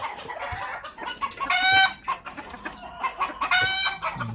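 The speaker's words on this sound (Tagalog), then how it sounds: "I will remove the chicken." Backyard chickens cluck and squawk close by in uneven bursts. A rooster-like call rises twice, with faint farmyard background between.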